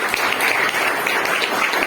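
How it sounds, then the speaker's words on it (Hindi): Audience clapping to welcome a guest at an event in Maharashtra, a dense, steady patter of many hands close up, filling the whole moment without pause. "महाराष्ट्र की तरफ से हम लोग सब आपका तालियां बजा के स्वागत करते हैं"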